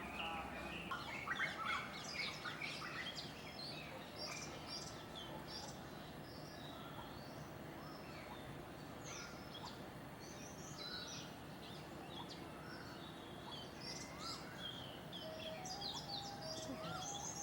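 Crows calling from a tree near a Buddhist temple guest house in Bodhgaya, repeated faint caws and chirps scattered over a low constant background hum.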